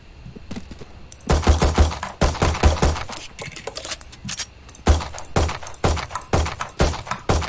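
Bursts of rapid automatic gunfire in the Valorant video game come as rhythmic rattling volleys, loud and close, separated by short pauses, with no talk.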